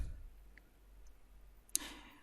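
A single sharp computer mouse click during a software setup on a PC, crisp and close, standing out once against a faint steady background hum.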